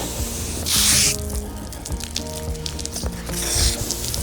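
A hose on a Zodiac YL410 inflatable boat's outboard motor setup sprays water in two short loud bursts, with dripping and clunking handling noises between them.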